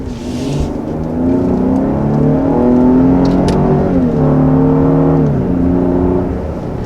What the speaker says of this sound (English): so that was our first acceleration with this Aviator